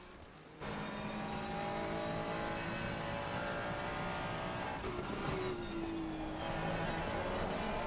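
Race cars at Imola in a racing video game, a 2014 Ferrari chasing an Audi 919, with sustained high-pitched engine whine, revs climbing and shifting as one car passes close by.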